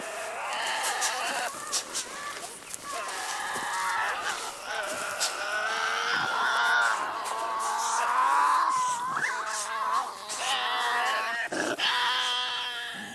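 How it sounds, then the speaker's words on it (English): Tasmanian devils shriek and wail at night in the Australian bush, a continuous stretch of harsh, rasping screeches and growling cries rising and falling for over ten seconds, loud and close with no talk. "the spine-chilling shrieks and unearthly wails that echoed round the bush at night"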